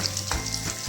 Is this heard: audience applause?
no